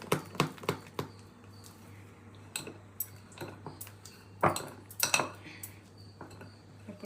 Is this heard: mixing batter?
yes